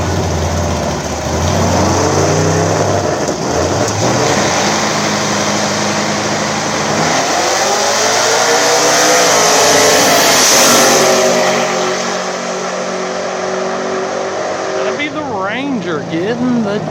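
A turbocharged Ford Ranger and a nitrous SN95 Mustang drag race at a small-tire event, their engines roaring loudly and revving up through the run while a commentator talks over the noise.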